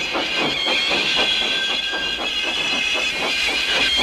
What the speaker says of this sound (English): Thomas pushed and puffed and pushed as hard as ever he could.